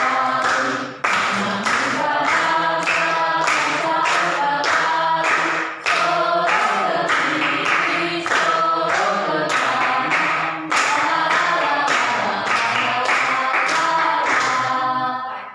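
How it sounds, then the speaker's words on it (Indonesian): A group claps hands in a steady, regular rhythm during a children's song session, loud and close, with sung voices running throughout. "Oke, kita tepuk tangan ya."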